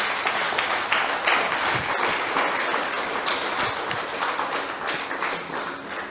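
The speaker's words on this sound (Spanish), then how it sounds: "Denle un aplauso a Dios." A church congregation applauding, a sustained, dense wash of clapping from many people, moderately loud and close, easing slightly in volume toward the end.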